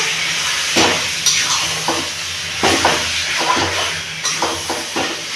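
Chicken pieces sizzle loudly in a hot pan while a spoon repeatedly stirs and scrapes them, making rhythmic scraping bursts over a constant frying hiss, close and with no talking.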